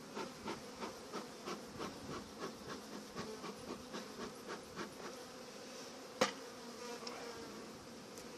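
Honeybees swarm and buzz steadily around an open hive on an allotment during an early spring inspection, a dense continuous drone with rhythmic pulsing and one sharp knock partway through.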